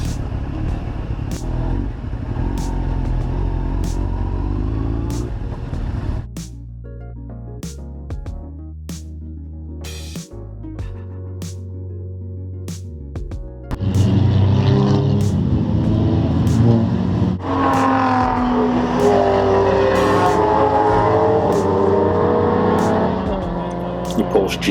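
Race cars speed past at a track near the Nurburgring, their engines revving loudly and steadily, with a quieter stretch midway before the roar returns.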